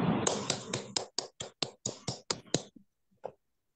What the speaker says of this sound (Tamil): எல்லாரும் கைத்தட்டலாம்.